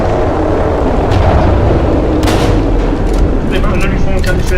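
Gunfire rattles in the video game Call of Cthulhu, loud repeated shots and booming impacts over a dense rumbling background, with a voice speaking in the mix.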